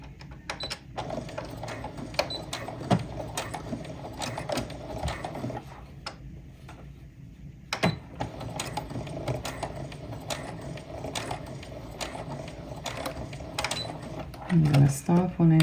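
A domestic sewing machine stitches along the edge of apron fabric, with backstitching at the start, a close mechanical whirring chatter with short stops and restarts while a voice talks over it.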